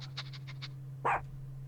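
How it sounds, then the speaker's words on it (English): A dog bark in The Great Ace Attorney 2 video game: a single sharp, loud bark near the end, after a short run of soft sniffing puffs over a steady background hum. "The Chief Inspector said woof to that"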